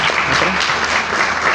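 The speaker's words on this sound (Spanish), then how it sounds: "aplausos para la doctora" Audience applause for a doctor at a conference, a dense steady wash of clapping filling the hall with a few voices faintly mixed in.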